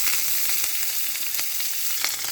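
Sliced onion, curry leaves and mustard seeds sizzle in hot oil in a pan, giving a steady, loud, bright hiss with tiny crackles and no voices.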